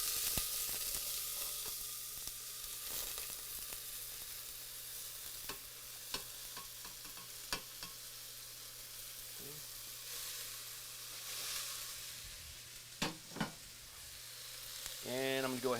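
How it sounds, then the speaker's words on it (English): Leeks sauteing in olive oil in a pot, a steady close sizzle with scattered clicks and scrapes of stirring, plus a few louder knocks near the end. "So what I'm going to do is put some olive oil in here, and we're going to saute down the leeks"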